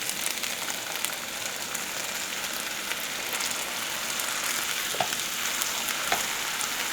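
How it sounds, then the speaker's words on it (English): A sauce with freshly added lime juice bubbles and sizzles hard in a pan, a dense continuous hiss with scattered pops, close and steady throughout. "Ooh, that's boiling."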